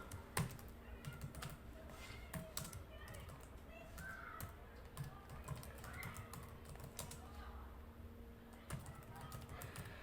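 Keys on a computer keyboard are typed close up in quick, uneven runs of light clicks, soft and fairly quiet, with a faint background hum.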